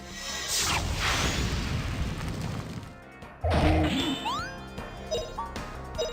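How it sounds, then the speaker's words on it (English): Explosion spell cast in the Grandia video game, a burst of crashing, whooshing game effects that fades, then a sharp impact followed by bright chiming tones and rhythmic thuds. "let's try the nice little explosion spell that Justin has now against those guns"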